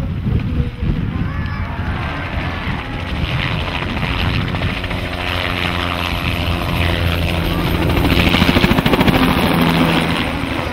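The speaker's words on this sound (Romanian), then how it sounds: "Un avion C-130 Hercules." A C-130 Hercules propeller aircraft drones steadily overhead at an air show, its heavy engine hum continuous and loud throughout, with a low rumbling roar swelling near the end.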